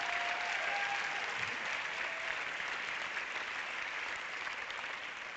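At the LUX Audience Award film ceremony, a crowd gives a big round of applause for a film's director and producers, a steady, even wash of many hands clapping that carries unbroken from start to finish.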